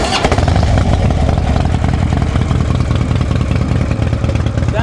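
A used Harley Davidson Street Glide motorcycle fires up and settles into a loud, close, rumbling idle with a steady loping pulse, no voices over it.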